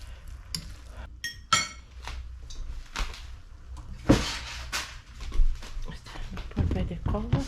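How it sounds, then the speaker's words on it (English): Metal clinks and clatters of a lid settling onto a cooking pot in a home kitchen, a few sharp knocks among other utensil and dish sounds, close and moderately loud. "Cover my pot."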